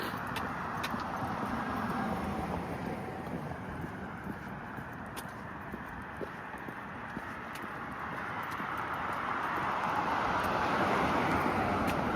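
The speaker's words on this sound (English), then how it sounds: "we're heading into the real traffic zone" Street traffic in a Toronto neighbourhood near Bayview and Moore Avenue, a steady wash of passing cars and wind heard while walking, growing slightly louder toward the end.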